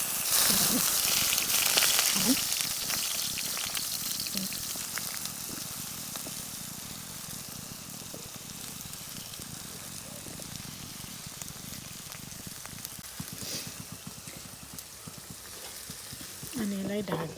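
Food fries in hot oil on a home stove for homemade sandwiches, a loud continuous close sizzle with occasional stirring clatter and scraping throughout.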